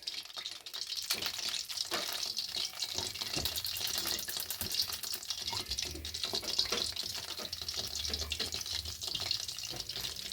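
Bread sticks fry in hot oil in a wok, giving a steady close sizzle and crackle with occasional soft clinks and stirring, no talk.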